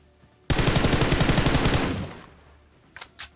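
Rapid automatic fire from an M416 rifle in a video game: one sustained burst of evenly spaced shots lasting about a second and a half, fading into a tail, followed by two brief sharp bursts.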